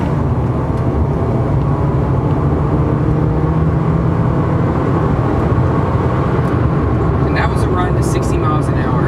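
2010 Toyota Corolla S accelerating at full throttle from inside the cabin, a steady droning engine hum under continuous road and wind noise, moderately loud and unbroken throughout.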